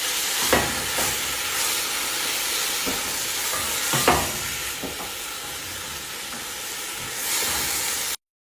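Coriander sautés in a pan while grape leaf risotto is being made: a continuous hissing sizzle with a few louder bursts of stirring and spattering rising above it.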